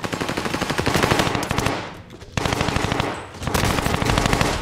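Long, loud bursts of automatic gunfire from a gun in Call of Duty Vanguard Warzone hammer in fast, even rhythm, broken by two brief pauses between sprays, with no talking.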